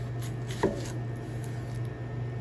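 A knife cuts an onion in half with a single quick crunch against the board, set against a low steady background hum and otherwise quiet, with no voices.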